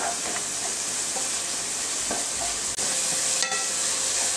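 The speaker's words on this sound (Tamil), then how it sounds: "வெங்காயமும் தக்காளியும் நல்லா கனிஞ்சு வதங்கி வரணும்" Onions and tomatoes sizzle steadily in a hot pan for vegetable biryani, with a ladle scraping and stirring through the frying, close and continuous with no talk.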